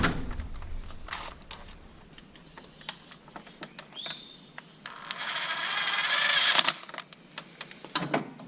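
An impact gun threads a bolt into a bolt hole: scattered sharp clicks and taps, then a loud buzzing rattle of about two seconds, followed by more clicks and knocks nearby.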